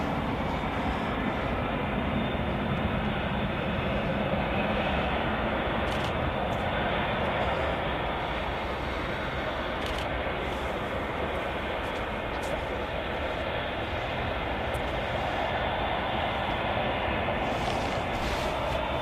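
Aircraft at Manchester Airport, a steady, continuous engine roar filling the whole stretch, broad and unchanging, with only faint clicks and no clear speech on top.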